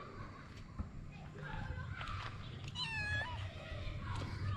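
A cat on a rural roadside in St Thomas, Jamaica meows in a few short, fairly faint calls amid outdoor evening ambience, with a person talking nearby.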